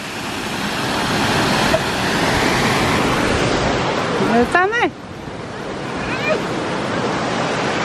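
Water rushes steadily off a lake in an outdoor setting, a broad continuous roar like surf or wind that fills the whole stretch, with brief talk from people and a short voiced call partway through.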